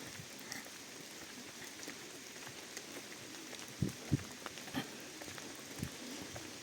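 Steady rain falls in a park in Truskavets on a cold day, a soft even patter with a few louder nearby drips and taps standing out.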